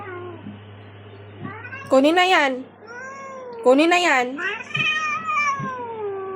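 A house cat meows repeatedly in long, drawn-out, complaining cries at close range, while a person talks over and between the calls.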